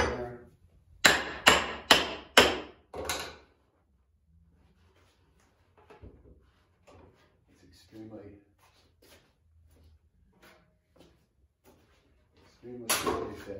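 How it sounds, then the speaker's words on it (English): Five sharp wooden knocks in quick succession as a wedge is tapped into a sculptor's Roman bench, then a pause with quiet speech and small handling noises, and more tapping at the end. "So you just pop a wedge in there."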